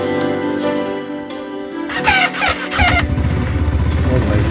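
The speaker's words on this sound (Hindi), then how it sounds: "पहले बाइक स्टार्ट करते हैं ताकि थोड़ी गर्म हो जाए बाइक।" A KTM 390 Adventure motorcycle is cold-started on a mountain return journey from Adi Kailash. A rooster and birds call first, then the engine cranks, catches and settles into a close, steady idle.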